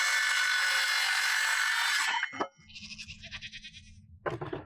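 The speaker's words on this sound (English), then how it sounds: "Sounds like the goats want some food." Loud rasping sawing at first, then goats bleating in wavering calls somewhat off to the side, with a knock in between.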